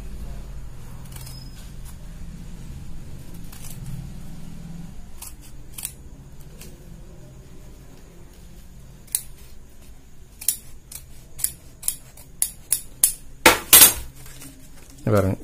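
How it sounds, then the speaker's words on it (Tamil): Tailor's scissors cut fabric to shape a chudidar blouse neck. A voice talks under quiet rustling at first, then a run of crisp snips comes quicker and louder toward the end. "இப்ப நான் வந்து பானெக் கட் பண்றேன் பாருங்க"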